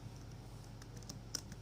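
A computer keyboard being typed on while a multiple-choice quiz question is entered: a few faint, scattered key clicks over a quiet, low hum, with no voices.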